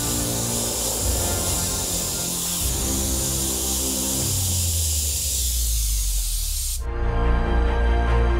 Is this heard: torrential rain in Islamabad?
no